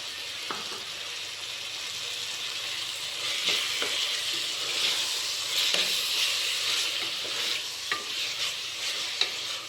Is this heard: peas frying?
yes